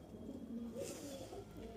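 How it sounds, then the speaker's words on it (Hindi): Madrasi pigeons in a loft coo softly, a short low murmur of calls close by against a faint background hum. "तो भाई ओवरऑल सारे कबूतर देख लीजिए"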